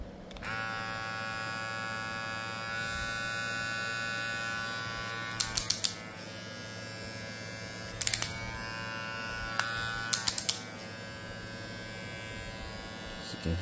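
A Sejoy Hunter electric hair clipper switches on and runs with a steady, close electric buzz that holds for several seconds, broken by a few short clicks and taps as it is handled, with no talking.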